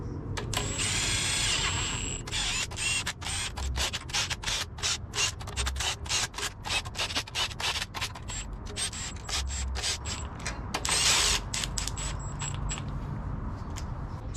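Bolts being run down on the oil pan of a K24A2 engine with a power driver, a long string of rapid clicking, ratcheting bursts close by, briefly pausing between fasteners and continuing steadily without talk.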